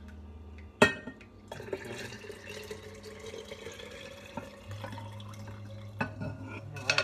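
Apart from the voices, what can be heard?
pouring herbal flower tea liquid from pot into glass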